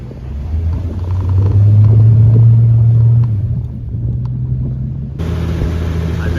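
The slant six engine of a 1965 Plymouth Valiant rumbles loudly and steadily under load while driving, its drone swelling mid-way then easing to a lower, rougher hum.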